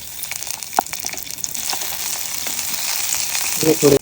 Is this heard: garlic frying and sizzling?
yes